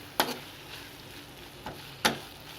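Spatula strokes stirring a banana flower stir-fry with lentils in an open pan, heard as three brief scraping clatters spaced apart over a quiet background.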